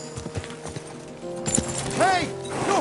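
Horse hooves clip-clopping in Kingdom Come Deliverance 2, a steady run of close hoofbeats through the first half, then mixed with a voice shouting and speaking over them.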